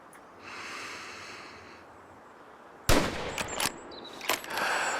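A rifle shot in the hunting game Way of the Hunter 2 cracks out sharply and loud, followed by a few quicker metallic clacks of the bolt being worked. Soft ambient hiss sits underneath throughout.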